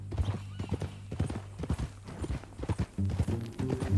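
Horse hooves clip-clop at a steady walk in the Western video game Red Dead Redemption II, close and rhythmic. Tack jingles faintly, and a low hum runs through near the end.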